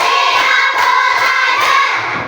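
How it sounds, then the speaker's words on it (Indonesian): Schoolchildren in a classroom clap together in a rhythmic spirit-building routine. The claps come as a loud, dense, continuous patter that holds steady for the whole stretch, with no voices rising above it. "sebelum dimulai kita tepuk semangat dulu, ya"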